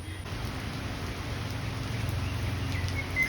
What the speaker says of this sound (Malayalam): വീണ്ടും നല്ല മഴയാണ് കേട്ടോ